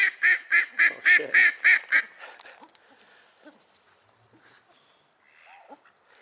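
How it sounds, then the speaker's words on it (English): A duck quacks loudly in a fast run of about seven harsh calls close by, then falls quiet, leaving faint scattered background sounds. "That duck there, by the way, that just called out then"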